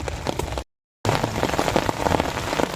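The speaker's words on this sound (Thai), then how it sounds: "ตอนนี้ครับ ฝนกับตกครับพี่น้องครับ" Rain falls steadily in the Sam Phran area during a fishing outing, a dense patter of drops striking surfaces up close, interrupted by a brief gap of silence.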